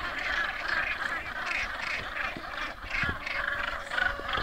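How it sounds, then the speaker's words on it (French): Gulls squawk and call repeatedly at a coastal colony in Gaspésie, a chorus of harsh, nasal cries overlapping at middling distance over a soft outdoor background, with a few brief thumps nearby. "Tu vois des goélands."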